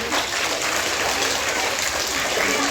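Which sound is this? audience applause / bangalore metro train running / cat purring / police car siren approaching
audience applause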